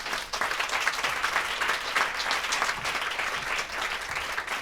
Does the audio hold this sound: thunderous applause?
yes